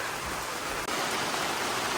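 Steady rain pours down during a tropical rainstorm at Raja Ampat, Indonesia, a dense, even hiss that fills the whole two seconds with one brief dip and no voices.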